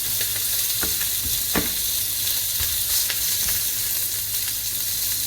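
Steak sears in a pan over high heat, giving a loud, continuous sizzle and hiss with a few small pops and crackles, heard up close with no voices.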